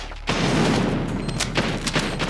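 An M4 rifle fires in the mobile shooter Standoff 2, a loud, dense stream of rapid gunshots that starts abruptly and rattles on steadily with a few sharper cracks.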